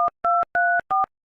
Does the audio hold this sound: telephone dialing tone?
yes